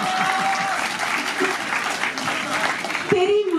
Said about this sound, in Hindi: ताली बजाते हैं इसको